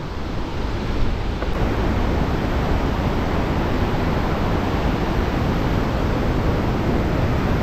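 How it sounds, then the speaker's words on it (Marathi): Napne waterfall in Sindhudurg gives off a loud, unbroken rushing roar, thick and steady with a windy, surf-like texture and no talking. "हे बघा तो धबधबा जिथं आपण आंघोळ वगैरे करण्यासाठी हे करू शकतो"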